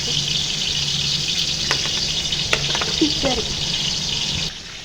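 Seasoned fish for majboos fries in oil with a constant close sizzle and crackle, a few faint clinks and scrapes over it, fading slightly at the end.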